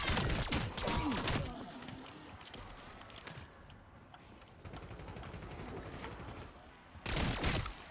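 Laser pistol at upgrade level 3 firing in Call of Duty Black Ops 7 Zombies, a rapid burst of sharp shots at the start and another near the end, with quieter scattered game noise between.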